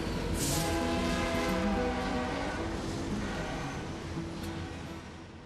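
A train passing through Flagstaff, Arizona, with a steady loud rumble and rail noise holding throughout, a horn-like tone sounding early, then slowly fading as it moves off.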